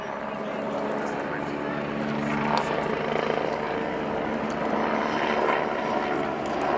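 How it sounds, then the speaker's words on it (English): Continuous droning roar of a helicopter in flight at the RIAT 2018 airshow at Fairford, pitching down with reduced power, steady and fairly loud with a low rotor hum throughout. "putting the helicopter into a 90-degree pitch down, reducing the power at the same time"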